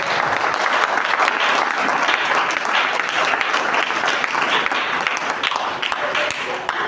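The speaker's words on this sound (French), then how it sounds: "Acclamons ton frère" A church congregation breaks into steady, dense applause for a brother, many hands clapping together at close range. The clapping holds the same level for the whole stretch, with no gap or voice standing out.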